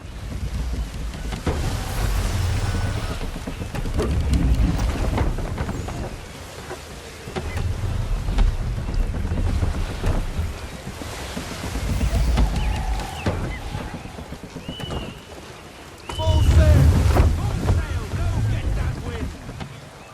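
A sailing ship in Assassin's Creed 3 pushes through the sea with continuous rushing water and wind, swelling and easing in waves. The ship sounds close and loud, and voices shout and talk over it.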